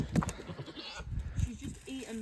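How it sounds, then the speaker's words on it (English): Goats bleating on a farm in the Yorkshire Dales, a few short nasal calls rising over a low rumble of outdoor noise, with one clearer bleat near the end. "Don't tell anyone, but I right like my goats."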